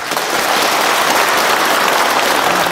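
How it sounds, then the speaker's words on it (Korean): A large crowd at a rally applauds steadily, a dense, loud, continuous wash of clapping with no voices above it. "여러분 다시 한번 큰 박수 부탁드리겠습니다"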